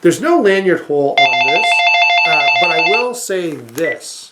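A telephone rings with a bright, sustained electronic ringtone for about two seconds in the middle, while someone talks before, over and after it.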